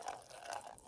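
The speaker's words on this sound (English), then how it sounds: "basically you just pour some water into here" Water pours from a container onto potted seedlings in a soft, steady trickle, quiet and close, with no voices.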